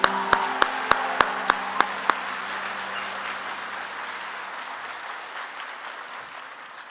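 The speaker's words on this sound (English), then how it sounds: "Please join me in a round of applause." An awards ceremony audience gives a short burst of applause, opening with a few sharp, separate claps that quickly fade into a soft reverberant tail in a large hall.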